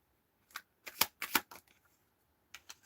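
Tarot cards are shuffled by hand in a few quick riffling bursts with short pauses between them, close and fairly quiet, with no talking.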